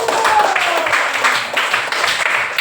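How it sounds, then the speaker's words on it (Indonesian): A school class claps together, a moderate patter of many hands with some voices talking over it, steady for a few seconds. "Kita tepuk tangan dulu."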